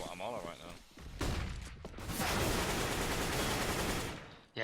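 Gunfire in a CS:GO match on Dust2 or Cache, a loud burst of shots that lands a headshot, dense and sustained under busy game noise, with a commentator talking over parts of it.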